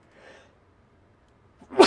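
A single person's sneeze bursts out near the end, loud and close, after a faint breathy intake and a quiet pause; it comes while someone is playing a video game.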